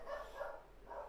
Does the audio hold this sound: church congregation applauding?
no